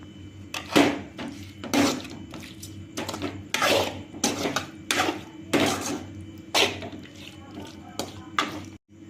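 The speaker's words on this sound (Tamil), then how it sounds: "இப்போ இது ஒரு கிண்டு கிண்டி விடுறோம்" Chicken fry being stirred in a cooking pan, a series of separate scraping, clattering strokes about once a second, close and fairly loud, with a low hum between them and no talk.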